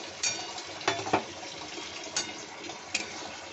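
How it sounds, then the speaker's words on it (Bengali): Water splashed into a pan of frying onion, garlic and spice paste with Kashmiri chilli, coriander and cumin, giving a hissing sizzle with a few sharp spattering pops. "এই জলটা দিয়ে দিলাম।"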